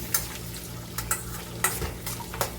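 Ridge gourd with curry leaves, coriander, mint and a little tamarind frying in a pan for chutney: a continuous close sizzle punctuated by about five sharp scraping strokes of a spatula stirring the mix.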